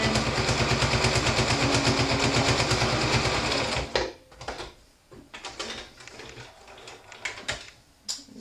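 A sewing machine stitching layers of cotton mask fabric, a fast steady whirring chatter for about four seconds, then stops, followed by scattered clicks and handling noises close by.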